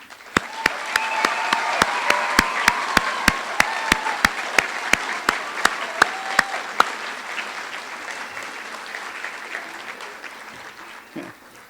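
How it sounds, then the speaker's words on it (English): Applause rings out for graduates at a college commencement in an auditorium, with sharp, evenly spaced single claps standing out over the crowd for the first seven seconds before the clapping thins and fades. "I'd like to give all of these amazing, talented graduates one final round of applause"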